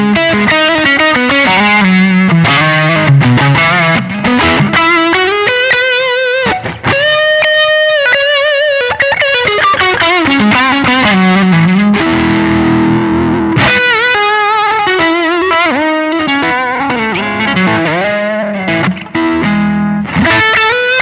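Electric guitar played through a Zoom MS-100BT multi-effect pedal with the gain raised, ringing out loud distorted chords and sustained single-note lines with a chorus-like shimmer, continuous and alone for about twenty seconds.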